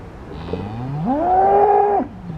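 A young bull lets out one long, loud moo that rises in pitch, holds steady, then breaks off abruptly.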